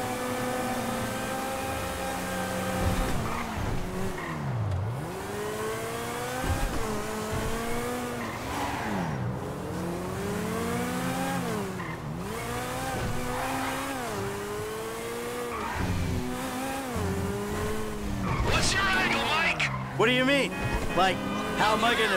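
Cars racing in Grand Theft Auto V, engines revving and rising in pitch through gear shifts with repeated tire squeals and skids, loud and close, while people talk over the action.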